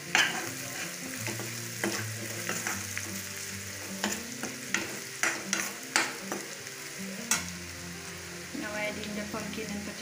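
Pumpkin and potato pieces fry with garam masala and Kashmiri chili powder in a pan, a steady sizzle under repeated stirring scrapes and spoon knocks, close and fairly loud.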